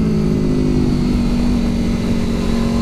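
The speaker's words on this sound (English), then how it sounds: "The RSV4 always was the best sounding road bike." A 2021 Aprilia RSV4 Factory sport motorcycle pulls under acceleration, a loud, steady, close engine drone with a sustained tone that holds throughout.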